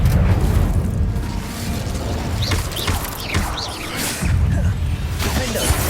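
Fire spell being cast in Hogwarts Legacy on PS5, heard as a loud, sustained rumbling roar with whooshing bursts and a few sharp crackles, with no talk.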